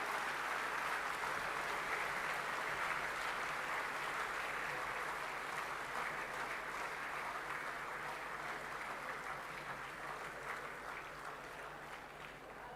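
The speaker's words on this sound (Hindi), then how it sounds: "जोरदार तालियों से स्वागत करें माननीय प्रधानमंत्री जी का।" Sustained applause from a large audience welcoming the Prime Minister at the inauguration of Bharat Mandapam in Pragati Maidan, Delhi, a steady even roar of clapping that slowly fades toward the end, with no voices over it.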